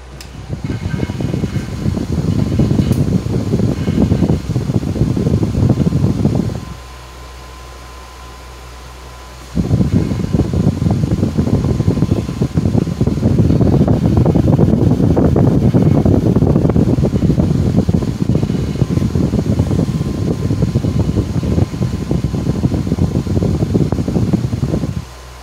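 A blower fan of a French fry heater, freshly lubricated, runs with a loud, steady airy whir, drops to a quieter hum for a few seconds, then roars back up and continues.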